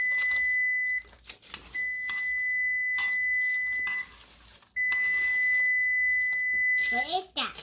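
A kitchen oven beeps loudly in long sustained tones, three extended beeps separated by short gaps, with a brief chirp at the end and no voices.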